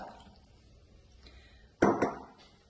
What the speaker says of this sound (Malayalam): അതിലേക്ക് നമുക്ക് കശുവണ്ടിപ്പരിപ്പ് തേങ്ങാപ്പാലിൽ ചേർത്ത് ഒഴിക്കാം.